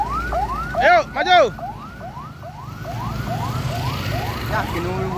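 An ambulance siren wails, sweeping up and down repeatedly in steady cycles, with a couple of louder horn blasts near the start over road noise.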